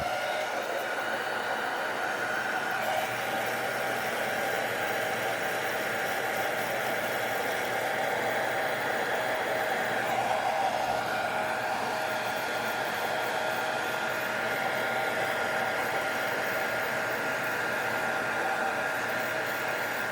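A heat gun blows a steady, continuous rushing whir onto a heat-shrink sleeve over a wire connector while an AtomRC Dolphin RC plane is assembled; the sound holds even and close for the whole stretch, with no talk.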